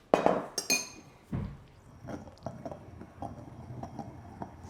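Coconut milk being mixed into a turmeric, ginger and palm sugar marinade, heard as a series of light clinks and taps of a utensil against a glass or ceramic bowl, with a few louder knocks early on, close and without speech.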